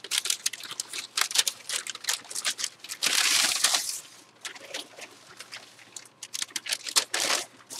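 Plastic shrink wrap is torn and crinkled off a boxed NBA card break box, a dense close-up burst of crackling, ripping and rustling with no talk.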